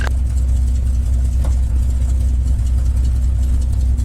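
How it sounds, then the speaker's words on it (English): A North American P-51 Mustang's piston engine idles with the throttle fully back while the aircraft taxis slowly, producing a deep, even, close rumble that holds steady throughout. "But I've got the throttle at idle."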